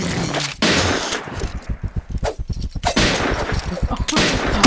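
Loud video-game gunfire crackles in rapid automatic bursts, fading briefly before repeated volleys of shots return with dense, rattling rhythm and no talking.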